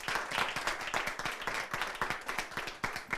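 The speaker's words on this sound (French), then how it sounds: "Sur vos acclamations, s'il vous plaît." Audience applause at a French school event presentation, dense steady clapping from many hands throughout, moderately loud and without voices.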